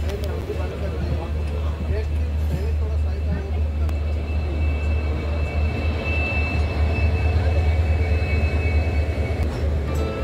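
Steady low rumble and rattle inside a moving Saptagiri Express passenger coach, a continuous loud drone with faint clatter throughout, no pauses.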